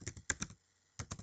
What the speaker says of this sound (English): please type the following command.